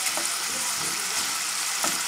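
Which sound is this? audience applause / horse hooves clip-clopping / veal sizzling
veal sizzling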